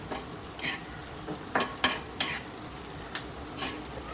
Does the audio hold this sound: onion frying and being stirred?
yes